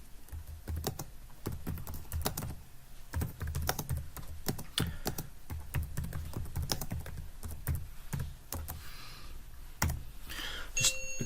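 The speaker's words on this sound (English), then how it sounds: "the customer just goes ahead and types the question" Steady typing on a computer keyboard, a close run of quick clicky keystrokes with brief pauses, nobody speaking.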